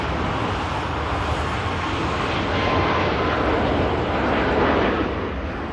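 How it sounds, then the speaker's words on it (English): A Ryanair Boeing 737 taxis past at an airport while another Ryanair jet rolls down the runway for takeoff, a steady, dense roar of jet engine noise holding level throughout. "Malta Air, Ryanair 737 taxiing past, just as another Ryanair is on the roll."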